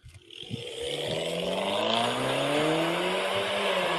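A rear-wheel-drive hatchback with a modified exhaust starts up and revs, the engine note climbing into a loud, sustained drone with a raspy exhaust edge that holds steady.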